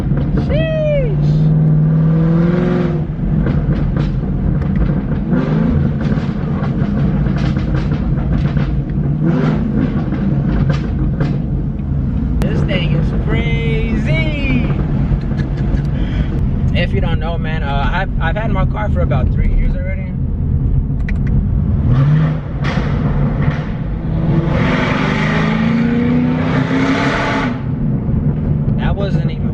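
A 2017 Chevrolet Camaro 2SS engine revs up in a few rising bursts, the loudest near the start and the end, with someone talking over it close by for most of the stretch.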